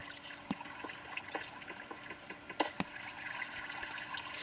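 Rushing water in the video game Minecraft, a faint continuous watery wash with scattered soft splashy clicks, quiet and steady.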